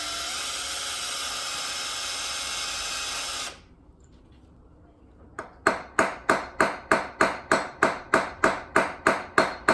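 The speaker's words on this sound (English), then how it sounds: "we've tapped this easy out thing in with the hammer" A steady mechanical whir cuts off, and after a pause a hammer taps a screw extractor into a broken exhaust manifold stud about fifteen times in an even, sharp rhythm.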